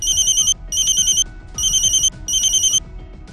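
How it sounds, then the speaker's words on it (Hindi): A telephone ringtone rings in four evenly spaced electronic bursts, loud and close, with no voices. "सीपी रश्मि करांदीकर को रविवार की रात 8:10 पर मुंबई से तकरीबन 8000 किलोमीटर दूर आयरलैंड से एक फोन आता है"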